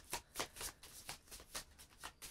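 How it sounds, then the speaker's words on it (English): Decks of Star Wars deckbuilding game cards are shuffled close up in quick riffling bursts, about eight rapid strokes in a row, with no talking. "So let's shuffle up our decks here."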